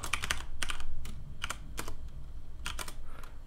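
Quick, close keystrokes on a computer keyboard as a file name is typed, a short irregular run of crisp clicks over a faint background hum.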